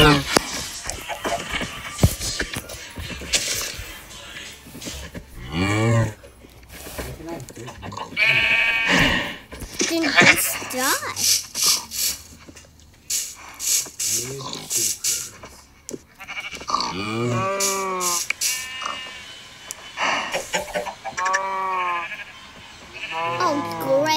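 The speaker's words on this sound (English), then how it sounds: "You see the sheep outside there?" Minecraft sheep bleat repeatedly in wavering calls, mixed with other animal sounds and layered under people talking excitedly.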